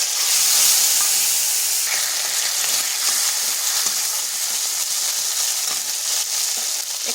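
Green chilli and ginger paste sizzles steadily in hot oil for a vegetarian pumpkin curry, a loud, continuous bright hiss with small crackles and no voices.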